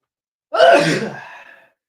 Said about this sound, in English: Now I'm gonna sneeze.